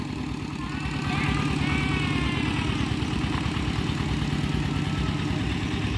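A farm tractor engine chugs steadily nearby with a rapid, even low-pitched pulse that grows louder after the first second and holds constant; a voice talks over it.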